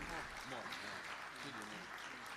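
Audience applause at a conference for a singer, a steady dense wash of clapping, quiet and distant, with voices murmuring underneath throughout.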